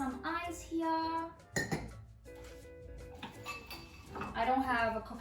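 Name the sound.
adding ice to a glass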